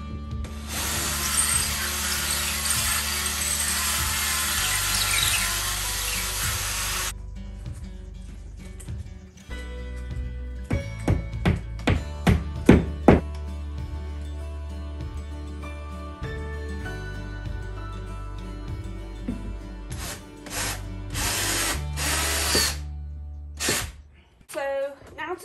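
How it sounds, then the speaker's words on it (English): A power drill bores a hole with a larger bit while hanging shelves indoors, starting with a loud sustained whir, then short repeated bursts of revving and a final steady drilling run, with some talking in between. "Okay, change to a bigger drill bit now."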